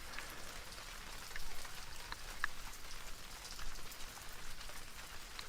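Steady, fairly soft rain falls on a beach in wind at high tide, a constant hiss with gusting swells and no voices.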